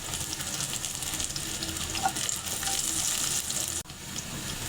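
A dried red chilli frying in hot oil with chopped onion, cooking for a katla fish and bottle gourd curry, gives a steady, close, dense sizzle that dips briefly near the end, with no talking.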